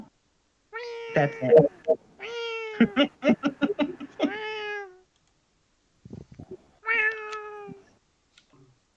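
A house cat meows repeatedly in a video game, with a loud run of separate meows and a pause before a final meow, while a player speaks briefly.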